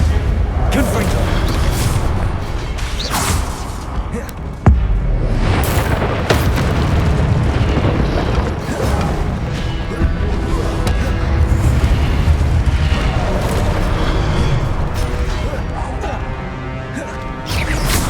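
Confringo fire spell explosions in the Hogwarts Legacy video game, loud booming blasts and crashes piling up over a dense, continuous layer of combat noise, with one sharp burst standing out near the start.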